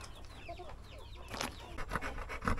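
Chickens clucking softly and pecking while being fed overripe bananas, with scattered bird calls and rustling, a few louder clucks near the end, no talking.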